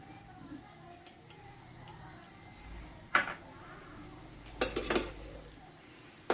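A spoon stirs milk cream (malai) into semolina (suji) halwa in a pan over a low flame. It gives quiet, scattered metallic clinks and scrapes, with a small cluster of knocks toward the end.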